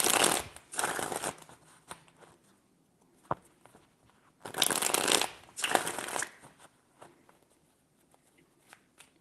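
Tarot cards shuffled by hand in three distinct bursts, crisp riffling flurries separated by quiet pauses and small taps, close and alone without talk.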